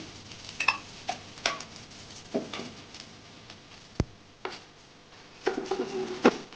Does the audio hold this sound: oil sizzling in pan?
yes